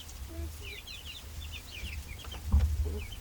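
Laying hens on a homestead, including Buff Orpingtons, cluck and chirp softly in short scattered calls, faint against a low background rumble with a brief thump near the end.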